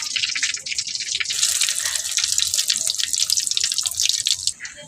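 Rice and lentil flour fritters with ridge gourd leaves sizzle in hot oil, a dense, loud, steady crackling and bubbling that runs close and continuous and then eases off at the end.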